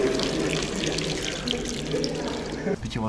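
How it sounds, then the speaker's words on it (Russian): Clean drinking groundwater runs in a steady gushing stream with a splashing hiss. A voice speaks briefly over it near the end. "Вот, вот тебе и чистая вода."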